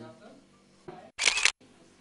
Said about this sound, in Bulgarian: Даже штрак като затвора на фотоапарат.